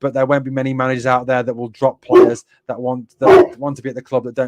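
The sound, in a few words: dog barking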